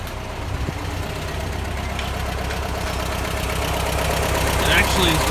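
A 1973 VW Westfalia engine idles steadily after a cold start, a low, even chugging rumble close by, with a voice talking over it.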